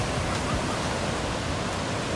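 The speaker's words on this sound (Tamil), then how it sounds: "இந்த தண்ணியோட சவுண்டு ஒரு மாதிரி பயத்தை கொடுக்கும்" Water rushes steadily at Varathama nadhi dam near Palani, a dense, loud roar that holds without a break and with no voices.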